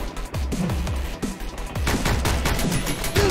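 Rapid, loud bursts of gunfire from the Speed Limit demo, a shooter set on a bullet train, crack out as sharp overlapping shots with no talking.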